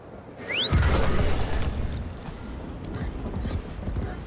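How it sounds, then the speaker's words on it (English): Horse hooves clip-clop at a steady trot in the Warframe game world, a loud close rhythm under a brief rising whistle-like tone, carrying on over busy ambient noise. "Ah, yes, horse."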